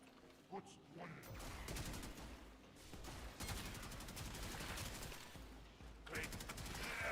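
Gunfire in the video game Warframe: sustained rapid automatic bursts and repeated shots rattle on for several seconds, loud and continuous with brief gaps.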